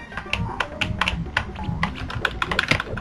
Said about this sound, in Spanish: qué difícil es jugar a esta mierda con el teclado